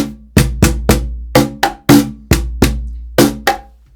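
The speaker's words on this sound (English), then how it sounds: "That's the sound of the medium-sized dog snare." Medium Size Dog cajon struck with the rattling, raspy snare engaged, about a dozen sharp slaps in a loose rhythm over four seconds, close and loud with buzzy snare decay after each hit and no voices.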